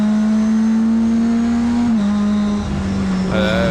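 A Mitjet race car engine drones loud and close from inside the cockpit at a rolling race start at Magny-Cours, holding a steady pitch that dips briefly and then rises as the car accelerates away.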